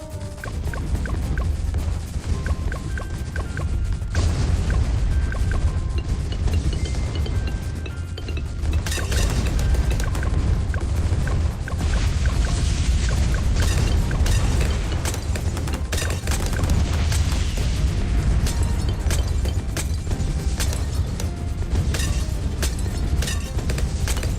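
Repeated explosions from bombs in the tower defense game Bloons TD 6 pile into a loud, continuous barrage of booms and crashes, with sharp bursts layered over a dense rumble throughout.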